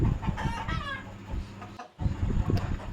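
Chickens of a local hybrid breed cluck and call close by on a farm, several short bursts of squawking with a brief pause in the middle.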